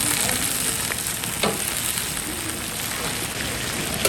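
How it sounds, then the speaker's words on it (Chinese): Ginger, garlic and half an onion stir-frying slowly in a pan, a steady close sizzle and crackle with faint stirring scrapes running through the whole stretch, no voices. "慢慢的煸姜，不要太急"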